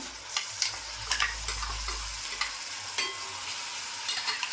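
Onion and tomato paste with curry leaves frying in oil in a pan, a constant close hiss of sizzling broken by occasional scraping stirs, with no voices.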